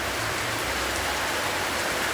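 Steady heavy rain pattering on surfaces close by, a dense, even hiss that stays loud throughout with no pauses and no voices.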